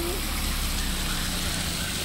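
Steady rain falling, a dense hiss with low rumble underneath, continuous and moderately close.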